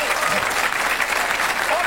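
Dense, steady applause from a studio audience at a 1993 television talk show, a continuous wash of clapping with someone speaking over it.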